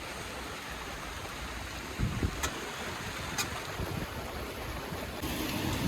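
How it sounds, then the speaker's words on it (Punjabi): Heavy rain with hail driven by strong wind outdoors in a rural farm setting, a dense continuous roar and rush with a few sharp brief impacts, loud and steady without voices. "ਹਵਾ ਵੀ ਬਹੁਤ ਚੱਲ ਰਹੀ ਆ ਹੁਣ ਤਾਂ ਗੜੇ ਵੀ ਪਏ ਆ"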